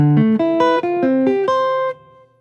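A jazz guitar plays a quick single-note lick over one measure, a run of about ten clean, articulate notes in steady rhythm that ends on a held tone, heard alone with no talking.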